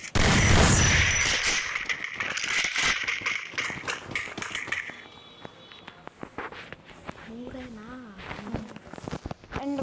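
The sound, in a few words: gunfire from a gun in the video game Free Fire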